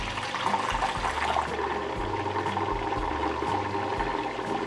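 An electric mixer whirs steadily, its low motor hum rising and dipping in pitch as it churns through eggs and Dutch baby pancake batter, loud and close.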